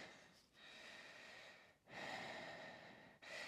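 Slow deep breaths during a yoga practice, close and soft, with two long airy inhales or exhales separated by brief pauses and no talking.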